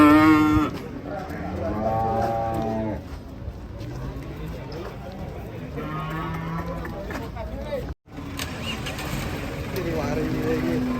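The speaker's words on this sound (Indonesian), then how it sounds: "ini sapi hitam guys" A black cow moos several times with long, drawn-out calls at a farm, close and loud, while people chatter and laugh around it and a brief dropout interrupts the sound.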